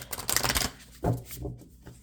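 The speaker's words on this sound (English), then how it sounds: "let me do some shuffling" Tarot cards being shuffled by hand in a couple of quick papery riffling bursts, close and fairly quiet, alone without talk.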